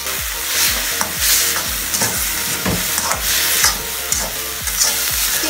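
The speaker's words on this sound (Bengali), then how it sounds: "আমরা সবগুলো একসাথে দিয়ে খুব ভালো করে নাড়াচাড়া করে এটাকে রান্না করে নেব।" Chicken pieces stirred and fried in a pan with Maggi sauce, a spatula scraping in repeated strokes over a steady close sizzle, with no voices.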